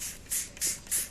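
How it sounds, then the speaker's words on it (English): Three quick hissing bursts from a hand spray bottle misting water onto paper, evenly spaced and close, with no voices. "if you have a spray bottle, that works really well too, because then you can just sort of spray your paper"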